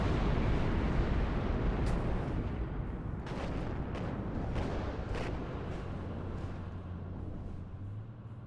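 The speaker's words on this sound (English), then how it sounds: "Here comes the napalm." Napalm strike detonating in a Warhammer 30K video game mod: a loud, sustained roar of fiery explosions and rumbling blasts with sharp bursts layered through, continuous for several seconds with a low engine-like drone underneath.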